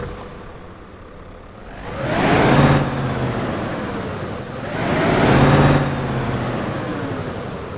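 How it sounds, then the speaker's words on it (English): Scania R770 V8 truck engine in Euro Truck Simulator 2 cranks and starts twice, each time rising in a loud roar that settles into a deep, steady idle rumble, with no talking. "let's go ahead and get our Scania started up so you can listen to this glorious engine"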